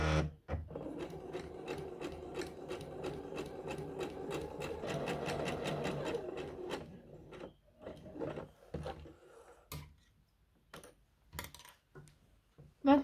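A sewing machine stitches gathering threads on a shirt: a steady, fast mechanical whir for several seconds, then scattered clicks and rustles as the fabric is handled, close and without talk.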